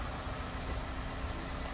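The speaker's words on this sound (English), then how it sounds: "As you can hear, or you can barely hear the engine running" The engine of a 2003 Toyota Corolla Matrix XR AWD wagon with 144,000 miles idles very quietly as a soft, steady low hum with no revs or changes, and no one speaks.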